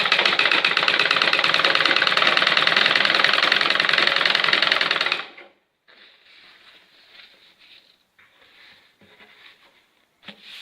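A sewing machine stitches a curtain, a fast, steady mechanical whirr that runs loudly for several seconds, then stops and gives way to faint rustling and handling of the fabric.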